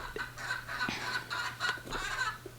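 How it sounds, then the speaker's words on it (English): A chicken clucks repeatedly in a garden, a string of short, nasal clucks at an uneven pace, moderately close but fairly quiet, with no talking. "Hear that crazy chicken?"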